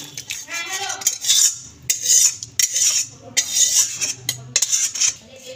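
Cooked chicken curry scooped and poured out of a metal pot, with loud, close clanks and scrapes of a spoon against the pot in repeated bursts separated by brief pauses.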